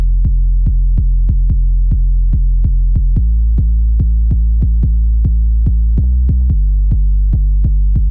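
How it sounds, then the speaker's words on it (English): A punchy 808 bass in a reggaeton production holds a deep, booming tone under a steady pulse of clicky attacks, loud and continuous, with a brief pitch shift near the end. There is no talking. "Next up, we need a nice punchy bass."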